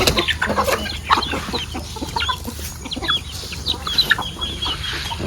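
Native chickens cluck and call while feeding on cracked corn at a farm, a busy flock making overlapping short clucks and squawks close by, with no talk.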